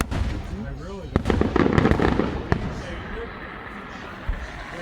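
Fireworks bang in a few sharp, loud bursts around the middle, with crackling between them, set against a noisy outdoor crowd with people talking and voices murmuring throughout.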